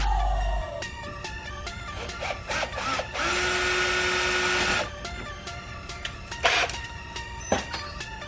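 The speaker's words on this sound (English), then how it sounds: "so you want to drill your pilot hole first" A power drill whirs in short bursts while drilling a pilot hole, with one longer steady spin in the middle, close by with scattered clicks and clatter between runs.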